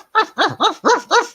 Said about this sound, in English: You guys can hear this yapping dog in the distance.